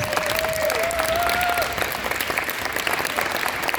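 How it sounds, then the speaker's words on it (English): An audience applauds at a school district recognition ceremony, a steady, full wash of clapping that lasts throughout, with a brief whistle-like tone early on and faint crowd murmur underneath. "Give a round of applause."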